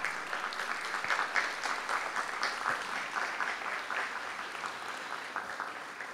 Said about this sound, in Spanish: a quienes les brindamos un fuerte aplauso,